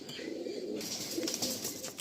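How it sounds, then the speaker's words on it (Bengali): A Green Ice pigeon coos softly nearby, low murmuring calls under a faint hiss, with light chirps and rustling from other birds in a loft. "এই হচ্ছে গ্রিন আইস পায়রা"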